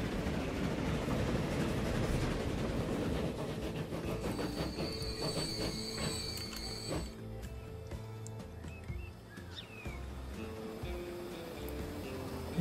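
A train runs in the Transport Fever video game with a steady loud rumble of wheels on rails and intermittent high metallic wheel squeals, continuous throughout.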